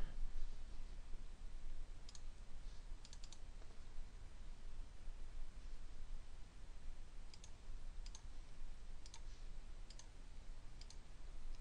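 Computer mouse clicking while working at a desk, a few faint sharp clicks scattered over a quiet steady background hiss, close by and alone.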